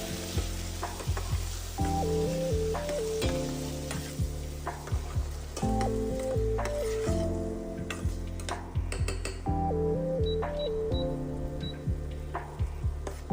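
Chopped onion and a little garlic sautéing in a pan for white cheddar Cheez-It meatballs, a steady close sizzle with repeated spoon scrapes and clicks, while a looping musical tune plays prominently throughout; no talking.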